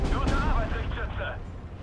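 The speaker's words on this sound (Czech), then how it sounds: "Rusové naštěstí nikdy netrefí první výstřel, to ví každej" Tank gunfire in the video game Steel Division 2, on the Orsha map, sounds as a heavy booming shot with a rumbling tail, overlapped by someone talking.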